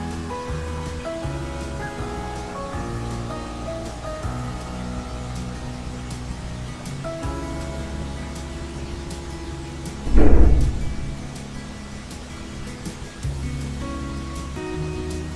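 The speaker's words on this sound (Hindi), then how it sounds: "इसी तरह हम सारे अपने पकोड़े फ्राई कर लेंगे।" Potato and onion pakoras fry in hot oil in a kadai, a steady, dense sizzle and crackle held close throughout, with a brief louder splashy surge midway as more batter goes in.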